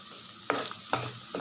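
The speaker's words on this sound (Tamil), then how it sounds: "இப்போ இதை நல்லா கலந்து விட்டுடலாம்" Snake gourd stir-fry with grated coconut being stirred in a pan: a few distinct scraping strokes at a steady pace over a soft sizzle, close and alone.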